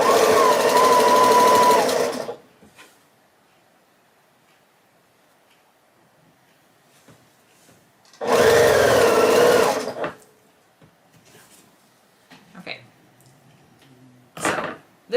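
A sewing machine stitches a quilt star block in two loud, steady runs, one at the start and one in the middle, with quiet handling and faint clicks between them.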